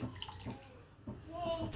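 Water poured into a pot with soaked sea moss (agar) while making a chilled dessert in a home kitchen, a soft steady rushing splash that continues for a couple of seconds at low level.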